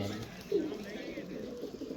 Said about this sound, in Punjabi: ਫਿਰੋਜ਼ਪੁਰੀ ਬੱਚ ਕਬੂਤਰ